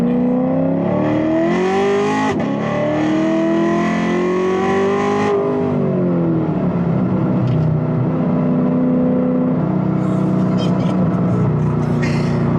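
A 500+ hp Corvette engine revs hard and climbs through rising gears with clear shift breaks, loud and close inside the cabin, then settles into a steady drone as someone talks over it.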